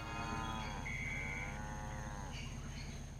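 Cows moo in the Wii version of Moo Moo Meadows in Mario Kart 8 Deluxe on Nintendo Switch. Several drawn-out, wavering moos rise over steady, continuous game music and engine drone, with no talking.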